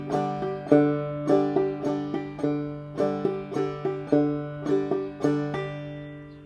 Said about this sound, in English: the way we play a waltz time rhythm is, instead of bum ditty, we play bum ditty ditty